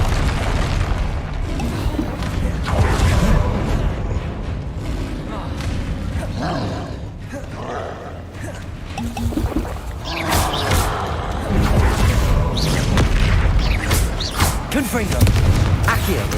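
Confringo spell blasts in Hogwarts Legacy: repeated heavy booming explosions with crackling debris across the stretch, loud and near, mixed with game action and a voice speaking at times.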